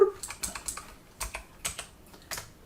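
Computer keyboard typing during a programming session, a handful of quick irregular keystroke bursts and clicks, close and fairly quiet, with no talking.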